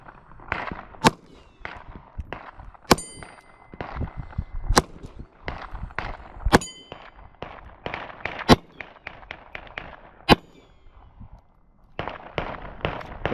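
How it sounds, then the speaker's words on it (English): A Walther PPK .380 pistol fires at steel targets on an outdoor range, giving a rapid series of a dozen or more sharp, loud cracks at uneven spacing, with short pauses between strings. "The Walther PPK in 380, the famous James Bond gun, the coolest, most impractical gun ever made"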